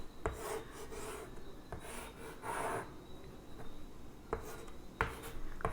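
Chalk or marker strokes on a board during a chemistry lesson, quiet scratchy rubbing in short bursts with pauses between, fairly close and alone without speech.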